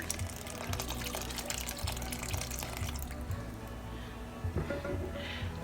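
Water pours into a cooking pot for Haitian djon djon rice with a close, splashy rush for about three seconds, then stops, leaving quiet kitchen sounds and a few faint clinks.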